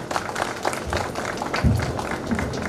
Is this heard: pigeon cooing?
no